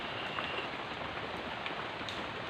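Rain falls in a steady, even hiss with faint scattered drops striking a surface, continuous and unbroken, with no voices.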